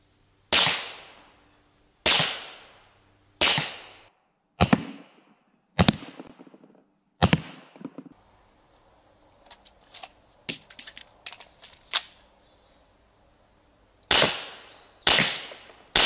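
A Grimberg Aurora pistol, based on an FSC design, fires sharp single shots at about 25 feet, widely spaced cracks with decaying echoes, separated by a stretch of quieter clicks and handling noise.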